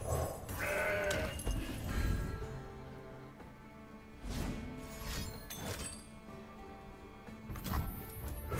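A goat bleats from a Mountain Goat card in a card video game, several short bleating calls over game music and effects.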